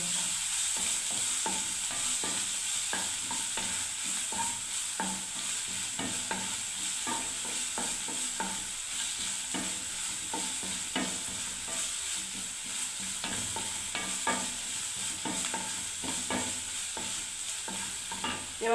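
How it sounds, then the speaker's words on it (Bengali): Chopped onion and green chillies frying in a pan make a steady close hiss of sizzling oil, with constant rhythmic spatula scraping and stirring running throughout at moderate volume, and no voices. "কুচনো পেঁয়াজ, কাঁচা লঙ্কা বন্ধুরা, ভালো করে ভেজে নিচ্ছি।"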